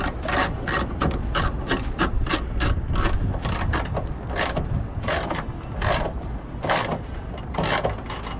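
A ratchet wrench tightens bolts on a 2018–2024 Toyota Camry LED tail light, giving close, loud, rapid rasping clicks in repeated bursts with brief pauses, with no voices.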